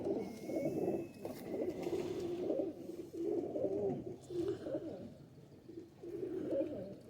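Several pigeons coo in repeated low, throaty phrases, a pigeon fancier's patti-marked birds among them; the bubbling calls rise and fall steadily at moderate loudness with no talking.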